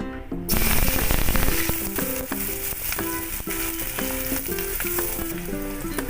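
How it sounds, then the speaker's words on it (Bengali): Chopped onion hitting hot oil already flavoured with fenugreek, a sudden loud burst of sizzling that stays dense and crackling, easing slightly as it goes on, with faint tonal music underneath. "এবারে আমি এর মধ্যে একটু পেঁয়াজ কুচি দিয়ে দিলাম।"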